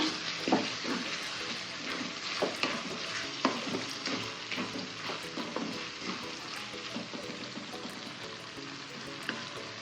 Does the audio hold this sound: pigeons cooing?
no